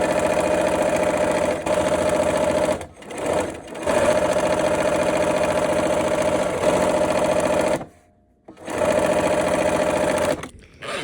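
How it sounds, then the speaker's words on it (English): A sewing machine stitching a quilt block seam runs loud and close with a steady whirring drone, stopping briefly a few times, with one clear pause before it starts up again. "so let's sew this last seam."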